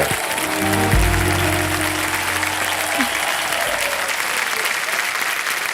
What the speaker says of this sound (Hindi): जोरदार तालियां हो जाए पुलकित के लिए।